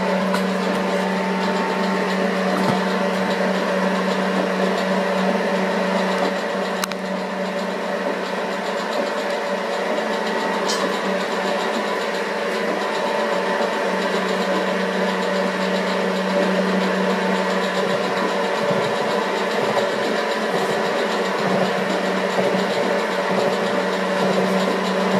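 A Harrison milling machine cuts gear teeth, giving a steady mechanical drone with a layered, humming tone that holds unbroken throughout, close and moderately loud.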